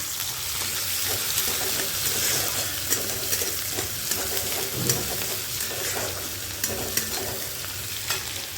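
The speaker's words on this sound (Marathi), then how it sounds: "मी टाकला त्याच्यामध्ये कांदा आता मस्त कांदा लालसर होऊ द्यायचा" Onion fries in a pan for a chivda and soybean fry dish, a dense continuous sizzle with light scraping and occasional clinks of a spoon stirring, close by.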